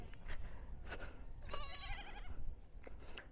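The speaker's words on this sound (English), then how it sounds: "These are goats from the neighboring community." Goats bleating on a mountain in Nigeria, a wavering bleat in the middle over steady outdoor background noise, with softer animal calls around it.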